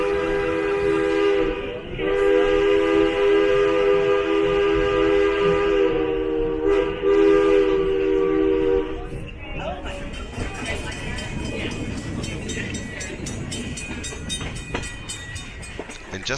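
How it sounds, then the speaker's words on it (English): Durango and Silverton steam train pulling out of the station in Colorado, bound up the Animas River: a loud, sustained chord-like whistle blows for several seconds, then gives way to heavy rumbling, clanking and hissing as the train gets under way. "the train has left the station and is heading up the Animas River"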